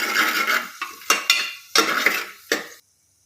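Almond pieces and fennel seeds are stirred as they roast in ghee in a cooker, giving several bursts of scraping and clinking from a spoon against the metal pot, close and fairly loud, separated by short pauses before falling silent.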